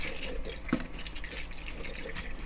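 Tap water runs steadily over vegetables being rinsed clean in a sink for a cabbage and wild chive dish, with a brief louder splash partway through.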